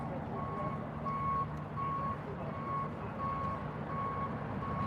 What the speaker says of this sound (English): all that noise was it backing up out of the turn one direction lane